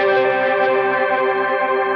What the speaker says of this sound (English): It's the kind of high octave harmonized reverb that comes, it's one of the effects off this MXR reverb.